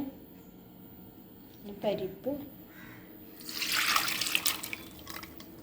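Water poured into a pressure cooker over lentils soaked for about an hour, a soft splashing pour that swells midway and runs for a couple of seconds against a quiet kitchen background.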